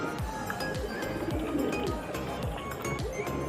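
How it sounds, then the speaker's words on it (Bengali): Andhra breed pigeons kept as a breeding pair at a home in Khidirpur coo in a repeated, rolling rhythm, several low throaty calls following one another close by with faint background chirps. "এক জোড়া ভারি পায়রা আছে বাড়ির ব্রিডিং পায়রা জোড়া"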